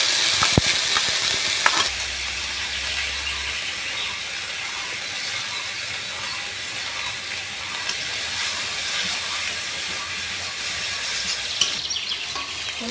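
Cumin, ginger, chili, garlic, onion and spices frying in hot oil, giving a steady broadband sizzle that runs throughout with faint stirring scrapes, close and fairly loud.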